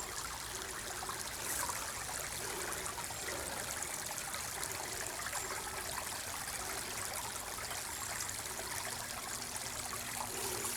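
Running water of a small stream beside a hiking trail at Colonel Francis Beatty Park in Charlotte, North Carolina, a steady, close, unbroken babble and trickle that continues alone throughout.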